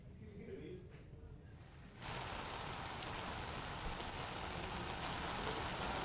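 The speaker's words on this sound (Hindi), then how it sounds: "यहाँ पर जो तेज़ बारिश हो रही है उसी के चलते ये स्थिति बन रही है" Heavy rain pours down in Jaipur as a dense, hissing wash of drops, quieter at first and then swelling suddenly into a louder, steady downpour.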